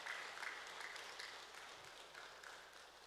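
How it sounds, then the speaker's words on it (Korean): A church congregation at a Wednesday service claps briefly for two members, a soft, distant spatter of hands that stays faint and fades slightly toward the end. "자, 이렇게 해서 두 분에게 박수 한번 하겠습니다."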